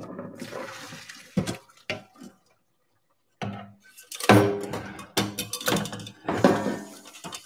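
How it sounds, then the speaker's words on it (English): Cold tap water runs at a kitchen sink over a quickly cooked potato, splashing in uneven bursts with a pause midway, close and moderately loud. "So I'm just running some cold water through this cooked potato"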